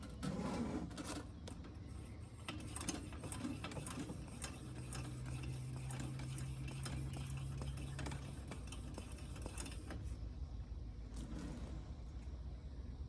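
A Coleman 220H lantern being refurbished is pumped up with pressure, giving a quiet, steady mechanical clicking and squeaking of the pump plunger, close and unaccompanied by speech.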